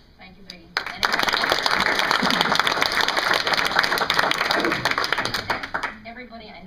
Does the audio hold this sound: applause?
yes